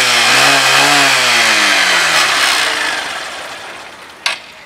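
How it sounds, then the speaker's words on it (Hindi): Honda Stunner CBF 125 motorcycle engine running with a smooth, quiet hum whose pitch slides down and fades over a few seconds, ending with a single sharp click near the end. "अब इसका सुन लेते हैं साउंड।"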